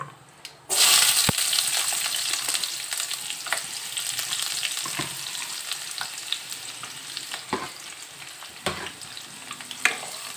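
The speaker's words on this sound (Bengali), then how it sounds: "এইবার ওই কোচানো পেঁয়াজটা এর মধ্যে দিয়ে দেবো।" Sliced onion hitting hot oil in a pan for doi chicken kosha, a loud sudden burst of sizzling that slowly settles into steady frying, punctuated by occasional clanks of a spoon stirring.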